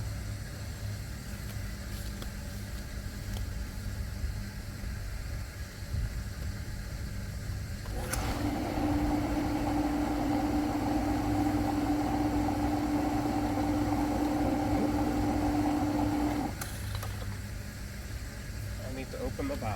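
A backyard pool pump switches on with a sharp click and settles into a steady motor hum and drone, then clicks off again, heard close over a constant background noise.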